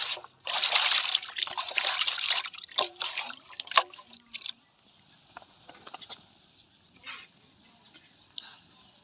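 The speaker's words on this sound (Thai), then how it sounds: "เอามาล้างกระดูกหมูก่อนเนาะ" Running water splashes and trickles over pork bones being washed, loud at first and then easing to intermittent drips and handling sounds, with faint birds in the background.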